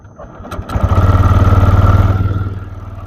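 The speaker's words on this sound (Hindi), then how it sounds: "अब हम गाड़ी को स्टार्ट करते हैं।" A TVS Raider motorcycle with an over-revving fault is started close up, cranking briefly before catching and settling into a loud, fast, steady high-RPM idle that fades slightly near the end.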